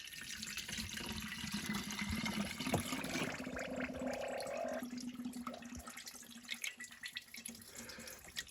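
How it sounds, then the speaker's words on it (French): Water trickles and splashes out of a Renault Clio turbo engine, a steady wet hiss and dribble at close range with a few drips. "Pour qu'il y ait de l'eau qui sorte par là"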